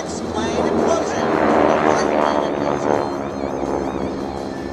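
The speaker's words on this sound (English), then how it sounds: "The Geico Skytypers six plane implosion." Six Geico Skytypers propeller planes fly over an air show during a six-plane implosion maneuver, their engine drone swelling and fading, with an announcer talking over it and crowd noise behind.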